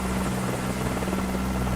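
Steady helicopter rotor and engine drone from a helicopter in Microsoft Flight Simulator 2024, a continuous close hum and whir with no talking.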